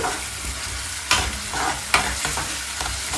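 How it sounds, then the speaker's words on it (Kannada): Cashews frying with ginger garlic paste in a pan for mutton sukka, a steady close sizzle with a few sharp stirring scrapes and clatters, no talk. "ಅದ್ರ ಜೊತೆಗೆ ಒಂದು 1/2 table spoon ginger garlic ಪೇಸ್ಟ್ನ add ಮಾಡಿ ನೀಟಾಗಿ 3 ಕೂಡ ನೀಟಾಗಿ ಹುರ್ಕೊಳ್ಳಿ"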